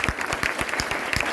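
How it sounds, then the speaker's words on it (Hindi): A school student council election crowd applauds, a brief burst of dense, even clapping from many hands in a room. "ज़बरदस्त तालियां जी इनके लिए"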